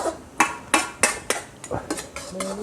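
Sharp metallic clanks and scrapes of a utensil striking and stirring in a wok while stir-frying rat meat, irregular and close, with a faint sizzle between strikes.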